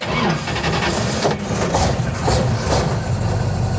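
A 1963 Chevy Nova's engine cranks and catches, then settles into a steady mid-pitched idle that runs on close by.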